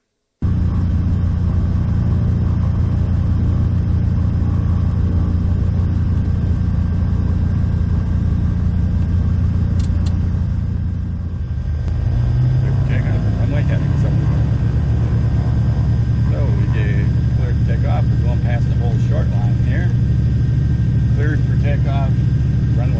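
A light aircraft engine runs loud and steady as the plane takes off, its low rumbling drone filling the whole stretch and shifting pitch partway through as power changes, with a voice talking over it.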